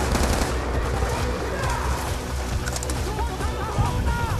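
Gunfire from a firefight in Call of Duty: Black Ops II, a dense, continuous clatter of shots with battle noise, a few faint voices mixed in underneath.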